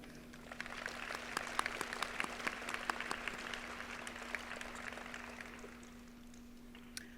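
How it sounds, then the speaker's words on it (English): Audience applause at a high school graduation ceremony, a soft, steady patter of many hands clapping in a large hall, fairly distant and fading toward the end, with a constant low hum underneath. "Please help us in welcoming all of our guests by way of applause."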